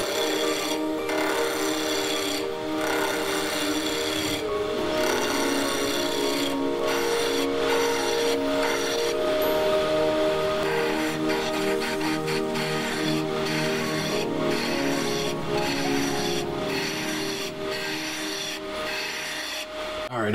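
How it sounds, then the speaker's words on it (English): A roughing gouge shapes a spinning wood blank on a lathe running at about 2000 rpm. The steady, close scraping and rasping sits over a constant motor hum. "So I'm just going to take a roughing gouge and true it up and then start shaping it."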